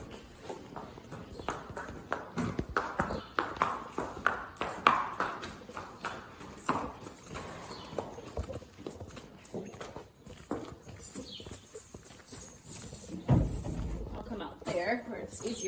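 Horse hooves clip-clop at a walking pace, uneven and moderately close, amid background rustling and faint activity.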